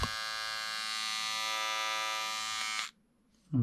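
A battery electric beard trimmer bought from AliExpress buzzes with a bright, steady, harmonic-rich hum for about three seconds, then cuts off abruptly, followed by a brief handling sound.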